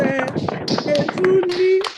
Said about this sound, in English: Let's all unmute our mics and clap